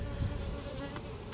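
Honey bees hum around a brood frame with nurse bees in a hive being set up for queen rearing, a soft, steady buzz close by.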